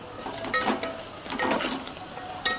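Onion being stir-fried in a pan with turmeric, red chili powder and garam masala, a steady close sizzle with stirring scrapes and a couple of sharp utensil clinks against the pan.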